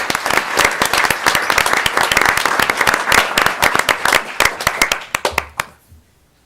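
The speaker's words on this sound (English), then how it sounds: "Let's give these staff members a round of applause once again." An audience at a board of education meeting gives staff members a loud round of applause, many close hands clapping for about five seconds before tapering off into quiet.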